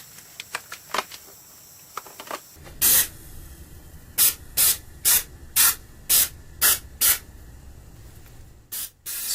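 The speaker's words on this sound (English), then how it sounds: "We're going to be spraying out the throttle body," Short bursts of throttle body cleaner spray hiss, close and loud, repeated about eight times in a fairly even rhythm after some light clicks, cleaning a Suzuki Forenza throttle body.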